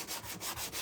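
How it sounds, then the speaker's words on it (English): A wooden stand from a DIY kit is sanded by hand, producing short, close rhythmic rasping strokes, about four quick passes. "We're going to go ahead and sand it."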